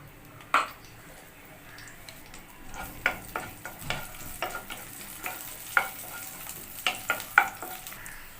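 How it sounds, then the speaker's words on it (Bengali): Chopped garlic stir-fried in a pan for homemade pasta: a soft, steady sizzle broken by irregular scrapes and taps of a utensil against the pan, close by, with no talking. "দিয়ে দেব রসুন কুচিগুলো সমস্ত সব দিয়ে এক মিনিট নাড়াচাড়া করে নেব"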